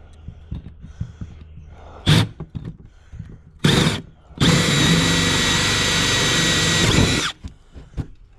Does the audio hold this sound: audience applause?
no